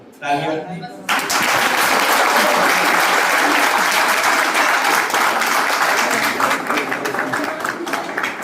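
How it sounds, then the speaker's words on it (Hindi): A seminar audience applauds during a motivational talk, a loud dense wave of clapping that starts after a short spoken line and continues strongly for several seconds. "तालियां रुकनी नहीं चाहिए भाई"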